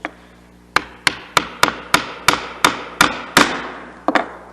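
A sharp chisel is struck by a mallet while cutting dovetail tails in poplar: about eleven crisp, evenly spaced knocks, close and fairly loud, each with a short wooden ring.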